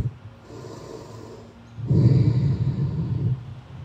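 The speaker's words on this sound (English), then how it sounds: "That was a good breath." A deep, heavy breath during an outdoor yoga session on a grassy field, a soft airy inhale building into a louder, rough exhale that carries close to the mic.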